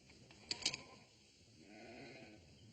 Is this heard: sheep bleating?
yes